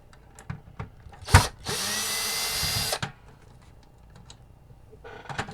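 Power driver backing out screws from a Nintendo NES console shell: a short buzzing whir followed by a longer steady whir of about a second and a half, close and fairly loud, with light clicks and handling noises around them.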